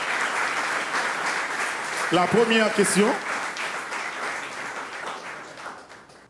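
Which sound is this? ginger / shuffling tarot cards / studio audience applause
studio audience applause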